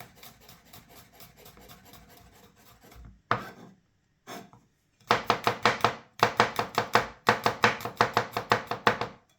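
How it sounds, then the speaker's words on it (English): Garlic chopped with a knife on a cutting board, rapid rhythmic knocks in bursts with brief pauses, the last few seconds loud and close. "Next, we're going to move on to the garlic. I'm going to chop that up, get that in there also."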